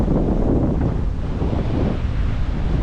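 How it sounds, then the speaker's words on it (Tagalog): Strong wind roars and buffets the microphone continuously during parasailing in Boracay, a dense low rumble with a faint wash like surf behind it. "malakas kasi yung hangin ngayon"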